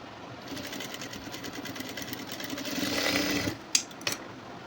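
A sewing machine runs a rapid, whirring stitch on slippery fabric for a back-open blouse, steady and close, then stops with a couple of clicks of the mechanism.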